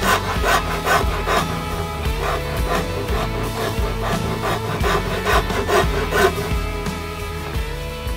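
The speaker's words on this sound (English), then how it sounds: "And then again, use a rasp" A hand rasp carving the wooden body of a guitar being built, with steady, rhythmic scraping strokes repeating close up over a constant background of tonal sound.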